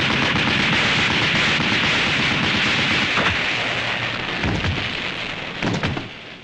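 Dense, sustained machine-gun fire from the Supaidaman GP7 robot, a loud continuous rattling roar with a few heavier bursts toward the end.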